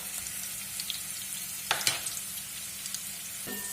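Carrots frying in a pan give a soft, even sizzle, with a couple of brief scraping stirs near the middle and one more near the end.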